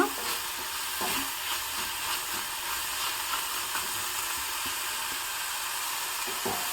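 Ingredients stir-fried in a pan for kayi gojju give a continuous soft sizzle and hiss, with light stirring scrapes throughout and no talking.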